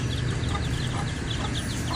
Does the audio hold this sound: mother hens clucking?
yes